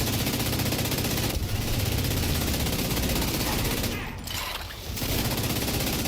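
Sustained automatic gunfire from The Division 2, a steady rattling barrage that runs almost unbroken, briefly thinning near the end, with a voice occasionally heard over it.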